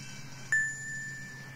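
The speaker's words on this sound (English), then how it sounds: "with the bells ringing, they raced through the streets to Bella's cafe" A single bright bell ding from a fire engine rings once, clear and sharp, then its tone sustains and fades gently over a quiet background.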